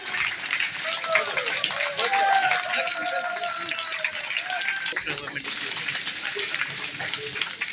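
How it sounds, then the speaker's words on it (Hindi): Crowd applause at a chief minister's campaign rally in Nari-Koyu constituency, Lower Siang district, India: a dense, steady wash of clapping that continues throughout, with voices heard over it. "तालियां बजती रहनी चाहिए।"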